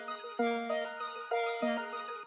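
A spacey synth melody layer treated with reverb, chorus and left-right pan automation plays a slow, repeating phrase of sustained chords with soft attacks and lingering tails, alone in a dark loop.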